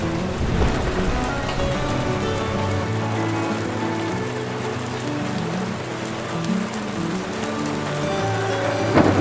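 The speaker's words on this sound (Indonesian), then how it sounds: "Namun hujan deras yang turun" Heavy rain pours steadily onto a surface in a dense, unbroken hiss, with soft low rumbling underneath throughout.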